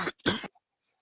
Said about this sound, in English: somebody coughing up that lung.